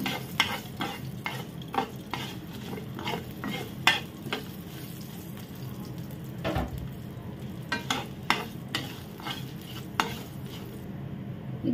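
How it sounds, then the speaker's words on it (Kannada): Chopped ginger and three cloves of garlic frying together in a pan for a Mangalorean dish, a close, steady sizzle broken by repeated scraping clicks of a spoon stirring against the pan, with no talking. "ಒಟ್ಟಿಗೆ ಚೆನ್ನಾಗಿ ಫ್ರೈ ಮಾಡುವ"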